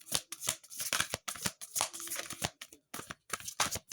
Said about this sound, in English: These are so hard to shuffle.